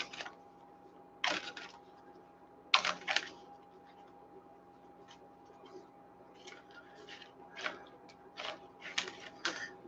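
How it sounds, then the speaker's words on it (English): A deck of oracle cards being handled and cards picked out, a few crisp flicks and shuffles separated by quiet stretches, soft and close over a faint steady hum. "I'm going to pick 2 cards from this deck."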